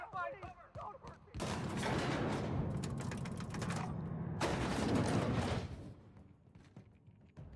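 Rapid bursts of video-game gunfire rattle in two long, dense volleys separated by a brief lull, with a voice heard just before the shooting begins.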